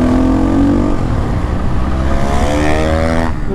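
Loud, close engine drone from a Pulsar AS motorcycle with a fully modified, throaty aftermarket exhaust, revving and shifting pitch steadily throughout.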